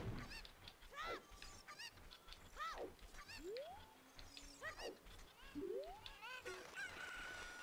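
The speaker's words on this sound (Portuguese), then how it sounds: "E a gente já vai achar todos os cucos." Cucco chickens in Zelda: Ocarina of Time give repeated sharp, squawking clucks and honk-like cries in a steady series, fairly close and clear over a quiet background.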